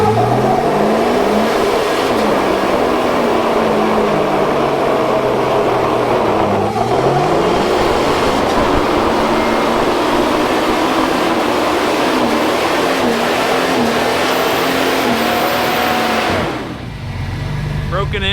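Loud, continuous engine roar of a truck doing a tire burnout to scrub off new tire stickers, the revving pitch rising and dipping for many seconds before dropping away near the end.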